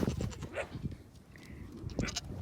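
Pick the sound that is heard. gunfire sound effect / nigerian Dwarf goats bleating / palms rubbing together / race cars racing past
nigerian Dwarf goats bleating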